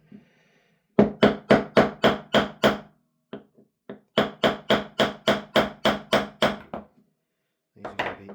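Sharp metallic taps from an improvised tool knocking out pins on a PMag magazine, struck in quick, even bursts of about six to eight blows, separated by short pauses, close and loud.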